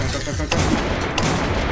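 Game-fire bursts ring out amid constant dense noise, with two sharp blasts, one near the half-second mark and another shortly after one second, like weapon shots or laser fire in a chaotic multiplayer video game.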